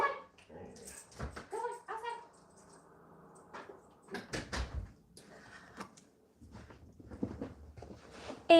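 A dog yelps and barks in short, irregular bursts with whimpering between them, fairly close and loud, while a person keeps talking over parts of it.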